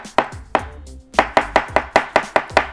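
A chef's knife chops an onion on a cutting board in crisp, close, sharp knocks, a few spaced strikes and then a quicker steady run of evenly timed chops with no talking.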